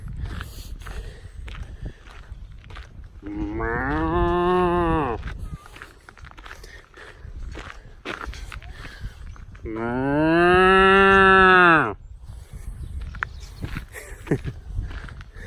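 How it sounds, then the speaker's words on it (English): Cattle at feeding time beside a feed trough, one a white cow, give two long, loud moos a few seconds apart, with faint rustling and footsteps between them. "A white cow standing up there on top of the feed trough looking out."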